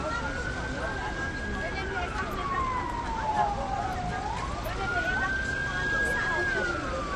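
An emergency siren at a traffic crash scene in Ordu, Turkey, where police, fire and ambulance crews were called. It wails in a slow rise and fall, loud and steady, while a voice talks over it.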